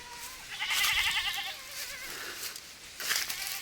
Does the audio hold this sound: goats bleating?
yes